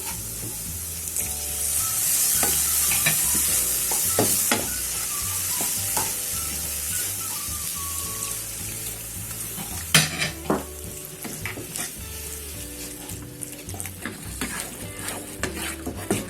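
Maida flour roasting in a pan for chicken cheese patties, with steady soft sizzling and repeated stirring scrapes and clinks of a spoon against the pan throughout, no talking.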